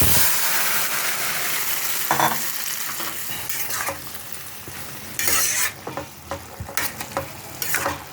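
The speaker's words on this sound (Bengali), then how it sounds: "এখন এই শাকটা আমি ঢেলে দিলাম" Fenugreek greens tipped into a hot pan of tempered oil burst into a loud, hissing sizzle that fades, followed by bursts of stirring and scraping close by.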